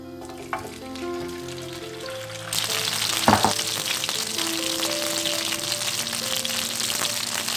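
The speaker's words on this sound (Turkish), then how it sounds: "Sonra bir tavada bol yağ ile" Chicken wings frying in plenty of oil in a pan for soy sauce wings: a sudden loud, dense sizzle bursts in partway through and holds steady, with a brief clatter and faint background tones beneath.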